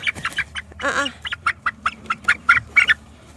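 A run of short, loud squawks and clucks from fowl close by, repeated in a quick irregular rhythm with no talking.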